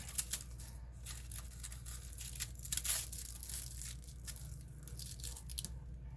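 Clear Press 'n Seal plastic wrap being peeled back off paper die-cut pieces during a paper-piecing craft, giving soft crackly tearing and crinkling sounds in uneven bursts, close up with no talking.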